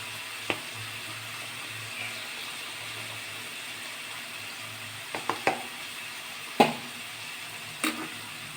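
Eggs fry with spices in a pan for an egg kosha curry, giving a low, steady sizzle under faint background noise, broken by a handful of sharp clinks and taps from a utensil against the pan; no voices.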